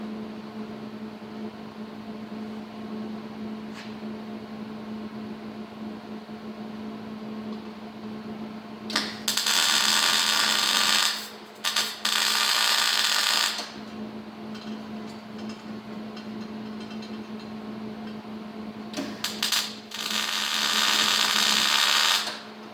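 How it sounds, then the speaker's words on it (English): Two loud bursts of welding on the top of a scrap-metal gothic candlestick, each a few seconds of harsh crackling buzz, over a steady low hum with quiet gaps between them. "so I'm going to weld the top in, and I'll slide the knuckle up, and I'll weld the knuckle"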